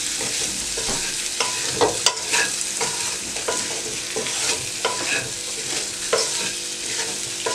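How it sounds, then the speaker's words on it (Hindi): Boiled potatoes fry in hot oil in a pan for anda biryani, a steady close sizzle with intermittent scraping and stirring clatters, no voices. "अब आपने इसी ऑयल में आलू डाल के फ्राई कर देने हैं"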